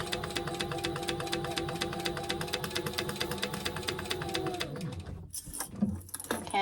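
A sewing machine back stitches the bottom seam of a crossbody bag with a rapid, even needle chatter close up, then stops, and a few quiet handling sounds follow.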